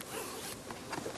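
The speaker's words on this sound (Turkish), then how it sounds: "Şimdi gizli fermuar kullanacağım ben." A concealed zipper on a sewn skirt is pulled closed in one smooth, continuous rasping stroke, close and fairly quiet, with no talking.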